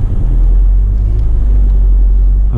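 A VW Passat engine accelerating gently on an uphill road, heard from inside the car as a loud, steady, deep rumble with no speech over it.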